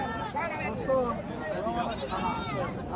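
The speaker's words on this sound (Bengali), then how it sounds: "এই ছাগলটা ভাই চমৎকার ছাগল" Young female farm goat bleating at the Teberia livestock market in Natore, a few wavering cries over steady crowd chatter and nearby talk.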